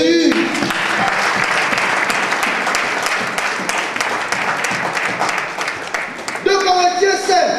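A church congregation breaks into sustained loud applause in acclaim of Jesus, dense clapping rolling steadily for several seconds before a voice cuts in near the end.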